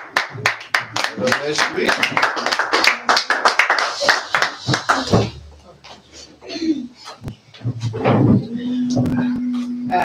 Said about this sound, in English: Let's clap hands for Bishop for the work